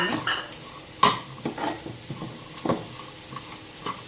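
Puran mixture of cooked dal and jaggery being stirred in a pot, a series of close clanks and scrapes of a spoon against the vessel at an uneven rhythm, with faint sizzling underneath.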